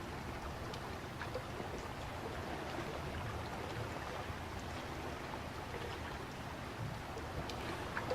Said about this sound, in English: I'm not sure if it sounds like a bathtub or whether it sounds like calm water